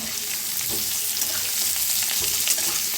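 Potatoes fry in hot oil for dum aloo, giving a steady, dense sizzle with crackling and spitting that runs close and loud for the whole stretch, with no voices.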